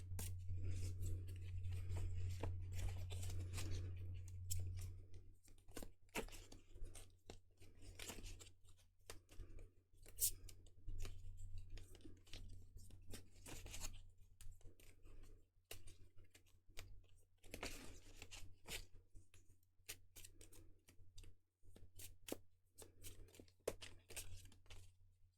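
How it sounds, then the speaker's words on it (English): Playing cards are shuffled by hand in quiet, repeated bursts of crisp riffling clicks and flicks over about twenty-five seconds, close but soft, with a faint low hum underneath. "I think I've shuffled enough."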